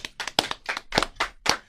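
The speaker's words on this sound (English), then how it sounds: "Let's give a live hand clap for Mr. Dwight Howard" A small group gives a guest, Dwight Howard, a round of hand clapping during an interview: a short burst of sharp, uneven claps, close and fairly loud, with no talking over it.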